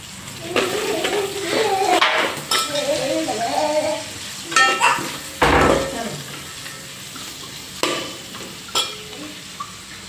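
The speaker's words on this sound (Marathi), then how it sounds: "आपण टाकतोय कांदा फोडणीसाठी" Chopped onions frying in a pan as the base for a chicken biryani gravy, with steady sizzling, scraping stir strokes and a few sharp clatters of a utensil against the pan, under faint background voices.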